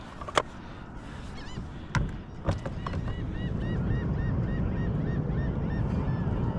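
Geese honk near the water by a fishing spot, several loud repeated calls rising over a steady background of water and wind, with a few sharp knocks early on.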